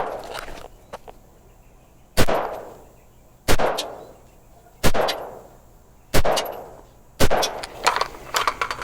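A .300 Blackout rifle firing 147 grain LAX ammunition, five sharp loud shots spaced about a second apart, each with a decaying echo, at close range with no talk.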